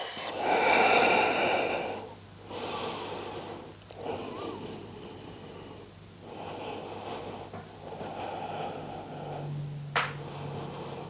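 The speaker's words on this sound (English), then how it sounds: "take in a few breaths" Slow, audible breaths in and out during a standing yoga balance pose, with several long exhalations and pauses between them and a faint low hum underneath.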